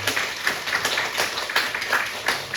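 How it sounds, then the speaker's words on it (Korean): A church congregation at a Sunday service gives a short round of clapping to welcome a first-time visitor, with brisk, even applause filling the room. "박수로 한번 환영해 주시면 좋겠습니다"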